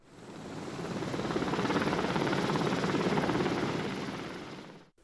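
A helicopter flying during a flood evacuation from villages in Ayancık, Sinop, a continuous rotor thump that swells in as it nears, holds loudly, then fades away.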